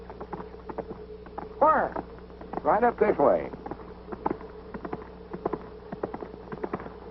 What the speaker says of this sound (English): that's the biggest horse I ever seen in my life.